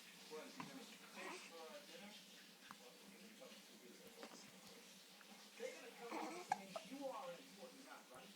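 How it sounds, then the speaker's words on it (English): A little girl hiccups several times in short, soft, irregular bursts while an adult speaks quietly around her, all faint and close. "You got crazy hiccups."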